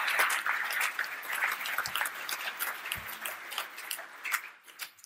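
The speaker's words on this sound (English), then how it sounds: "So let's have a round of applause for him." An audience applauds at an evening talk after a presenter finishes, with dense, steady clapping from a crowd that thins and tapers toward the end, with no speech over it.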